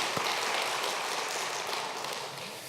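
Congregation applauding the choir at an early-morning church prayer service, a dense, steady patter of many hands that fills the room and stays even from start to finish, with no voices over it.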